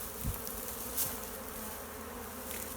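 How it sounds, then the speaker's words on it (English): Honeybees buzz steadily around a hive on a warm day, a dense, continuous hum with a few louder passes as individual bees fly close. "Bees are very busy at the minute. There's lots of activity because it's such great weather"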